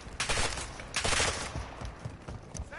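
Rapid bursts of gunfire crackle through a video game firefight at moderate loudness, several volleys in quick succession with no voices over them.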